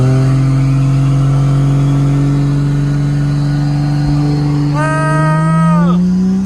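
A car with a TH400 transmission holds a loud, steady high-rpm engine drone during a trans brake burnout. A brief higher rising tone sounds near the end.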